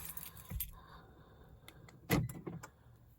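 A Lexus LS 430 car door is handled with keys jangling, quiet rattles followed by a sharper clunk of the door mechanism and a few lighter clicks, all close and without talk.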